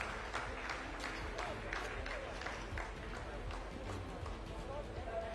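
Dense, continuous applause from a room of scientists celebrating the completed second descent phase of the Chandrayaan lunar landing, with sharp clapping bursts throughout and voices mixed into the crowd noise.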